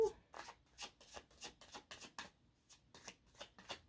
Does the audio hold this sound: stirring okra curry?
no